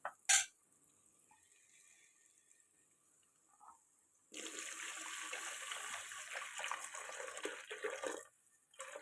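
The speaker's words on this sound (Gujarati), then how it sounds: "હવે આપણે આમાં પાણી નાખી દઈશું." Water gushes into a cooking pot of tomato-based khichdi, a steady close pour lasting several seconds after a quiet stretch and a sharp clink, then cutting off.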